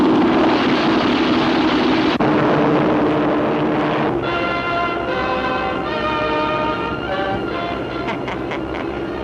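A giant bomber aircraft taking off in an old Superman cartoon, a loud, steady engine roar that swells and drones, joined by a rising whine and a few rhythmic tonal pulses near the end.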